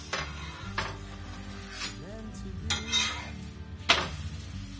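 Paneer paratha cooks in oil on a pan, with clinks and scrapes of a utensil against the pan over a faint low sizzle, up close.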